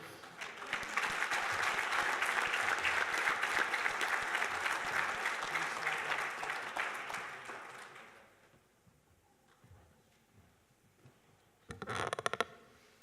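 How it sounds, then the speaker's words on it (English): An audience at a university hall of fame induction ceremony in a hall breaks into sustained applause for eight seconds that fades out, followed after a quiet gap by a brief second burst of clapping. "how about another round of applause for 2018 Missouri Western State University Hall of Fame member, Mr. Dave Slifer"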